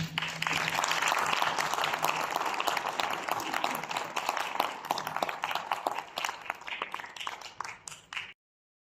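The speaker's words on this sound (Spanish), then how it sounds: "Un fuerte aplauso." Sustained audience applause at a spiritist conference gathering, dense hand claps filling the room steadily before thinning toward the end, with no talk over it.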